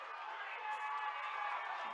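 Spectators at a high school football game between the Greyhounds and the Trojans cheer, making a steady, moderately distant crowd roar that swells slightly partway through.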